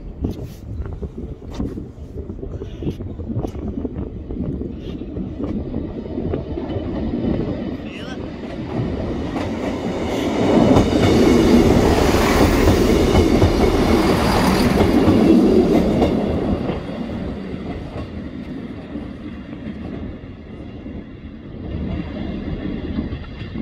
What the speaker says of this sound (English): was a dramatic train pass.